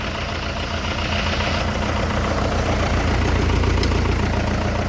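A Lovol 504 tractor's four-cylinder Perkins engine idles steadily at close range, a low, even rumble with a faint knocking beat and no voices.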